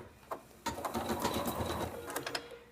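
Embroidery machine sewing the first stitch in gray thread, a quick close rattling burst of needle strokes after a brief start, fairly loud and busy.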